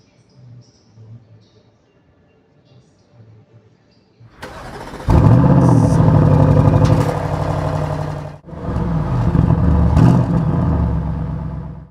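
An Audi RS6 Performance engine sits quietly with faint low sounds before a sudden loud rev at mid-clip, holding strong, dipping briefly, then revving hard again near and loud.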